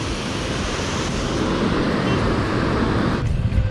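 Water gushing down a channel cut through the rock hills at Jalaput dam, a loud, steady roar of rushing flow heard up close without a break.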